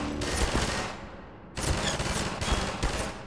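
Bursts of automatic gunfire in Half-Life 2 come in two loud volleys separated by a short lull, each made of rapid, rhythmic shots.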